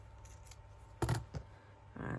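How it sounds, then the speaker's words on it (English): Scissors snip into an ivory paper tag to distress its edges for a junk journal craft. A few crisp, close cuts come in short bursts, with one sharper snip in the middle and no talking over them. "Where's my scissors? Because I want to distress it."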